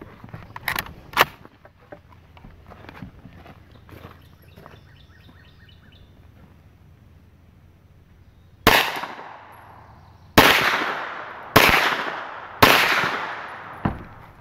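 Four loud, sharp gunshots from a Hi Point 995 or Sub 2000 carbine crack out about a second apart at an outdoor shooting range. Each shot has a ringing tail, and a couple of earlier sharp pops and faint chirps come before them.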